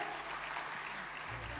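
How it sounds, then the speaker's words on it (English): Applause at an inauguration and lamp-lighting ceremony for Chief Minister Omar Abdullah: a dense, steady crowd clapping that holds at an even level for the whole stretch, with no break. "Mr. Omar Abdullah, with the biggest round of applause."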